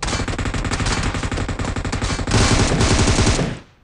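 An M249 machine gun in PUBG Mobile fires long, rapid automatic bursts, loud and close. The rattle runs almost continuously, then cuts off sharply at the end.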